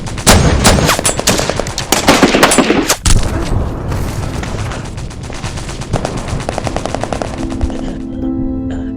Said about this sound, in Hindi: और मशीन गन ने उन पर भारी फायर खोल दिया।